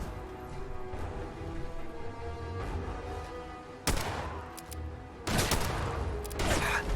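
Gunfire rings out in the video game Fallout 4 in loud bursts of sharp shots over a dull background rumble, with the heaviest volleys near the middle and the end.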